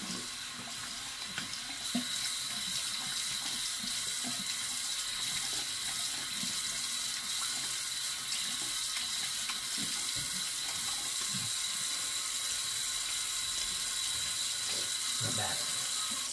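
Cold water runs steadily from a bathroom tap as someone rinses off after a straight-razor shave, a continuous close hiss with faint clicks and splashes of hands in the flow.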